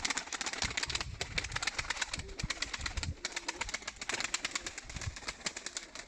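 Gökbenekli pigeons coo in low, rolling calls from nearby, mixed with rapid clattering and fluttering from the loft, busy and continuous with irregular bursts.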